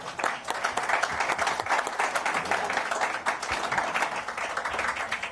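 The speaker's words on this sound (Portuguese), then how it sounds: "Vou bater palmas" A small group claps after a press statement, a steady patter of hand claps with uneven rhythm that holds throughout, fairly close, with faint murmuring beneath.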